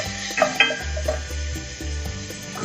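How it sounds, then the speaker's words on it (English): Bacon fat renders in a pan while risotto is being made, giving a steady low sizzle with faint clinks and stirring scrapes close by and no talking. "we're going to render all that fat down"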